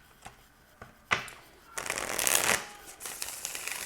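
A deck of tarot cards being shuffled by hand, with a few soft taps and riffles followed by a dense, sustained burst of card flutter, close and clear with no talk over it.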